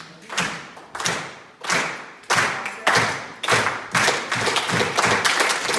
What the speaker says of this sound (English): Clap along my hands.